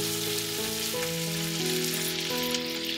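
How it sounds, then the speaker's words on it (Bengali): Chicken drumsticks for tangdi kebab fry in a pan over a high flame, a steady close sizzle with soft music underneath. "তারপর চিকেনটাকে এদিক ওদিক করে সামান্য একটু কালার আসা পর্যন্ত আমাদের ভেজে নিতে হবে।"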